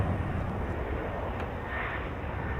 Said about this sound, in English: Oh wow, the fighter jet's right overhead.